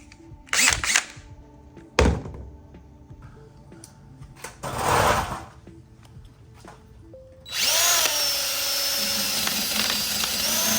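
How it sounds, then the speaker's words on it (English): A few short bursts of a power drill starting and stopping, then a sustained high-pitched whine as a rubber eraser wheel attachment spins steadily against adhesive residue for several seconds. "I'd like to see if one of these drill attachment rubber erasers work."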